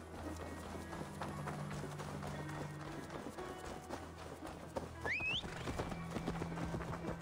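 Horse hooves run at a steady gallop in Assassin's Creed Valhalla, a continuous rhythmic clip-clop under game ambience with a brief whinny-like rising tone near the end.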